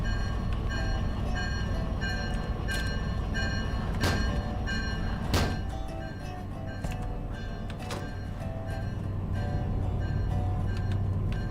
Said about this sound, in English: The train noise must be drowning it out, guys.